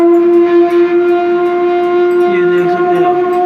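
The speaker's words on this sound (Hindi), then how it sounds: "पंप की आवाज़ से आपको पानी भर के भी चेक करवाएंगे।" The water pump of a homemade 12-volt DC air cooler runs nearby, giving a loud, steady electric hum with a strong constant tone and no talking.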